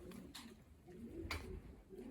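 A blue cock racing pigeon coos softly nearby in a loft, low murmuring calls repeating across the moment with a few brief rustles and background noise.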